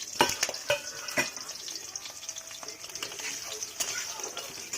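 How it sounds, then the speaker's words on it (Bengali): Sliced onions sizzle in hot oil with cumin, dry chilli and bay leaf, a steady close frying hiss broken by sharp scrapes of a spoon against the pan. "এটাকে হালকা হালকা ভেজে নেব যতক্ষণ ব্রাউন না হয়।"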